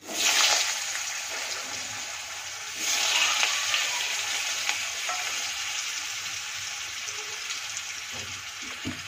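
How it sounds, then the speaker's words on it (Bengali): Long-cut potato slices hit hot oil, likely in a Bengali rohu fish curry preparation, bursting into loud sizzling that flares again midway and settles into a steady crackling fry. "এই আলুগুলো দিয়ে দেবো তেলে।"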